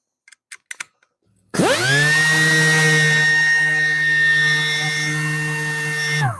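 An air-powered sander, freshly oiled with air tool oil, starts after a few clicks and spins up into a loud, steady high whine with a strong hum, running continuously close by.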